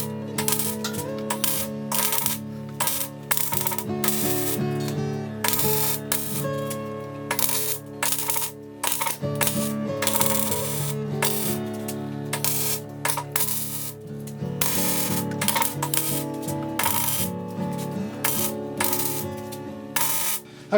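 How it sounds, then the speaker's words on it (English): Welding a metal bracket for bucket storage gives a harsh, crackling sizzle in close, loud bursts, with brief pauses between welds over twenty seconds. "So let's get this welded."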